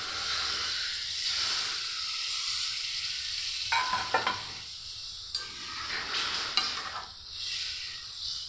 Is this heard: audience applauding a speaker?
no